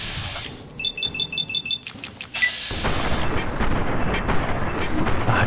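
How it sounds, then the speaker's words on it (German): Pistol gunfire in Fallout New Vegas: a run of repeated rapid shots with a beeping alarm-like tone, then a denser sustained burst of impacts and booms against armored enemies. "die Pistole macht so gar keinen Schaden gegen die Dinger"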